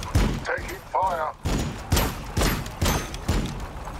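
Gunfire in the strategy game Warhammer 40000 Battlesector during a multiplayer match between Adepta Sororitas and Space Marines; a rhythmic series of about seven punchy bursts at even intervals, with short voice lines from units in between.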